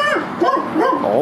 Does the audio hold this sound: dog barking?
yes